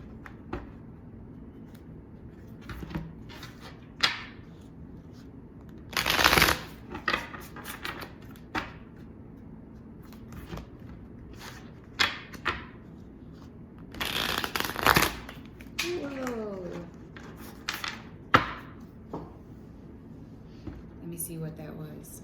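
Tarot cards are shuffled by hand in repeated quick riffling bursts with short pauses between them, close and clear over a quiet room.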